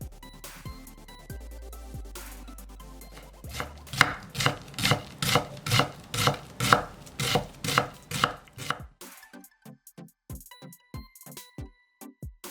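Half an onion chopped with a kitchen knife on a cutting board, a steady run of crisp, close, evenly spaced knife strikes, then a slower, lighter series of cuts, with no talk.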